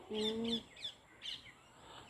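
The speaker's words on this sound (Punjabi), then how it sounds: "ਮੈਨੂੰ ਤਾਂ ਲੱਗਦੀ ਆਹ ਇਹ ਤੋਤੇ ਖਾਂਦੇ ਤੇ ਇਹਨਾਂ ਦੀ ਜ਼ਿੰਦਗੀ ਵਧੀਆ" Parrots feeding outdoors give three or four short, bright chirps spaced about half a second apart, moderately close. A brief voiced sound comes at the start.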